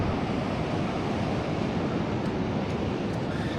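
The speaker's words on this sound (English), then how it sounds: "Pacific Ocean" Pacific Ocean surf rolls in a continuous, steady roar of breaking waves, fairly close, with some wind noise and no voices.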